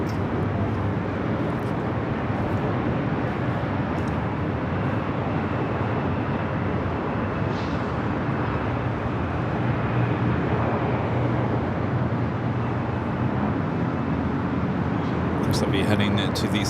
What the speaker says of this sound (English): UPS 767-300ER coming in from Sacramento, flight 9820, flying above us here